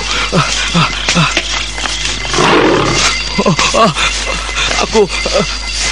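A tiger roars in an Indonesian audio drama: a loud, rough burst in the middle, framed by shorter growling calls and sound effects, all under a steady background hum.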